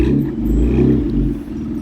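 A deep, rumbling BMW M3 engine revs steadily up close at a car meet, loud low-end growl throughout with some mechanical clatter.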